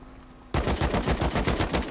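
Rapid automatic gunfire in the survival game Rust starts abruptly after a brief quiet moment, then continues as a loud, close, steady stream of shots with no talking.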